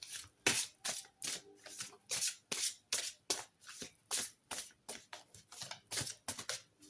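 Tarot cards are shuffled by hand in a steady run of crisp riffling bursts, each about half a second apart, close and clear with no voices.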